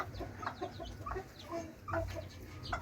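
Rhode Island chickens cluck and murmur softly close by in a coop, scattered short calls over a low background hum, no people talking.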